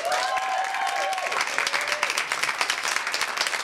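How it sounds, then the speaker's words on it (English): An audience applauds a band at the close of an interview, with dense, steady clapping and some crowd noise throughout, loud and close. "round of applause for the boys"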